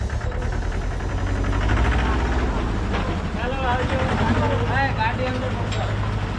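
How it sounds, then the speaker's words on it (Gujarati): A tractor's low engine rumble continues steadily as it pulls away during a village festival procession, while people talk loudly close by over it. "જો ભાઈ ટ્રેક્ટર જાય છે"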